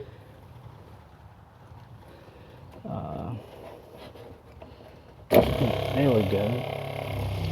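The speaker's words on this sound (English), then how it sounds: "we hear the pump is working" An RV water pump, unmounted from the wall while being replaced, starts running abruptly and keeps going as a loud, steady broadband whir, close by, after a stretch of quiet room noise and brief speech.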